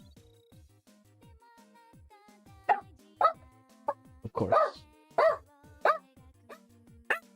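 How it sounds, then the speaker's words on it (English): Dogs barking in a room: several loud, sharp barks in irregular bursts over a low background, with a brief spoken phrase near the start. "Of course, the dogs are here."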